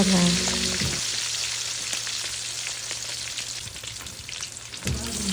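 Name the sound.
chicharong bulaklak frying in oil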